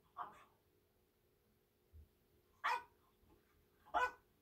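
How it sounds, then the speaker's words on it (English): A dog barks a few times in short, separate yips, faint and distant, spaced across a quiet room near a French bulldog. "the noise of other dog"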